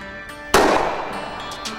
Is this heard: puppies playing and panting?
no